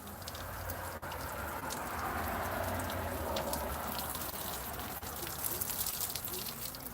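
Cold water keeps splashing over a little boy's feet outdoors in warm weather, a continuous close patter and gush that holds steady throughout.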